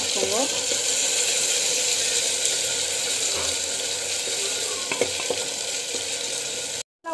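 Ground masala paste sautéing in a pan for a homemade baby curry, a steady low sizzle with occasional scrapes of stirring, close by, cutting off abruptly near the end.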